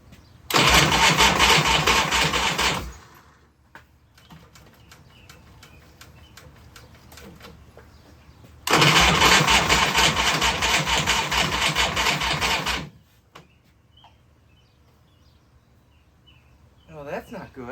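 A rebuilt Harley Shovelhead motorcycle engine cranks and briefly fires twice, each burst a loud rough roar lasting a few seconds before cutting out, with quiet pauses between and faint workshop sounds.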